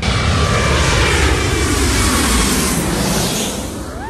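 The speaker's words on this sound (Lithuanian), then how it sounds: "kas 10 minučių tikrai po vieną lėktuvą nusileidžia." An airplane flies low over a beach in Phuket on its landing approach, a loud, close, steady engine roar that begins to fade near the end.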